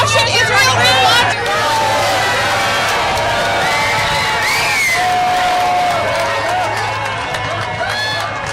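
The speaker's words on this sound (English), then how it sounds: "a very loud crowd here with a lot of people across, right next door, cheering him on" A loud crowd cheers and shouts outside a Harlem bodega during a visit by President Trump, a dense wall of whoops, whistles and voices sustained throughout with babble mixed in.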